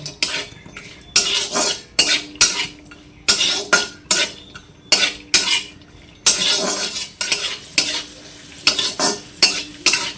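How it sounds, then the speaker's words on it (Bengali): Cashew nuts and raisins fry in ghee over low heat, giving a soft sizzle under repeated sharp scrapes and clinks of a spoon against the pan in an irregular rhythm. No voices are heard. "কাজু আর কিশমিশগুলোকে ভেজে নিলাম।"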